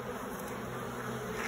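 Honey bees buzzing steadily around a newly installed nuc in a long hive, a dense continuous drone of many insects close by with no voices.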